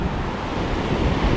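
Surf rolls in on the beach at K'Gari (Fraser Island), a loud, continuous wash of crashing waves mixed with gusting wind noise and no voices.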